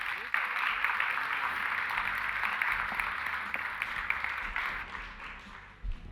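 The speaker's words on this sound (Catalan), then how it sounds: "Un fort aplaudiment." An audience claps steadily at a neuroscience event in an auditorium in Figueres, a dense mid-distance applause that fades out near the end.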